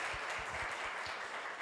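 An audience at a talk on autism and disabilities claps briefly for a group of women, a fairly quiet, even patter of many hands with a few lower thumps near the start.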